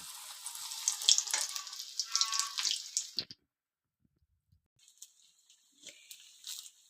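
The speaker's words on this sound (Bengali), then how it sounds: "এখন আমরা বেসনের মধ্যে বেগুনটা ডুবিয়ে তেলের মধ্যে আস্তে করে" Eggplant slices coated in gram flour batter are lowered into hot oil, giving a bright, close bubbling sizzle that cuts off sharply, followed by near silence and then a fainter, thinner frying hiss.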